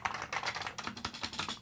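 Rapid, steady clacking of keys typed on a Commodore Plus 4 computer keyboard, close and fairly quiet, with an even rhythm of overlapping keystrokes and no voices.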